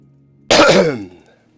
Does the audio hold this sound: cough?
yes